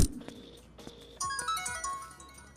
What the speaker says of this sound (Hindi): फोन क्यों नहीं उठा बे?